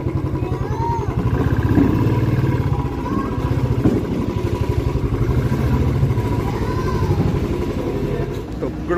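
A motorcycle is parked nearby, its engine putting along in a steady, close, mid-pitched idle throughout with a light clatter.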